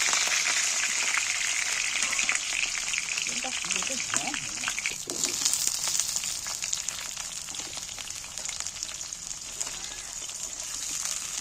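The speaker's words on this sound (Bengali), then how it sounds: "আমি কাটা এঁচোড়গুলো তেলের মধ্যে গরম তেলের মধ্যে তুলে দিচ্ছি" Cut young jackfruit pieces dropped into hot oil in a kadai, giving a loud, continuous bright hiss of frying with a brief burst of bubbling and crackle partway through.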